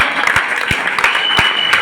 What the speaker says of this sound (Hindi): तो आप लोग इतनी सी तालियां बजाओगे साहब